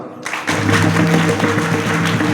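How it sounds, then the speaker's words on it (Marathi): Audience at a village kirtan in Pathardi breaks into loud, continuous clapping after a brief quiet moment, with sustained instrumental tones ringing beneath. "एकदा आणखी टाळ्या वाजवा."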